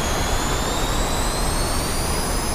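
Jet fighter engine in the DCS flight simulator during a Korean War dogfight between an F9F-5 and a MiG-15, a loud steady roar with a high whine that persists throughout, no speech.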